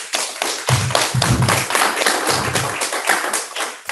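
An audience at an agricultural entrepreneurship program session applauds the speakers with dense, sustained clapping from a crowd in a room, steady for several seconds.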